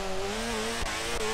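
Car drifting in the racing game DRIFT 21, a steady engine drone with sustained tire squeal held through a short slide, continuous and close.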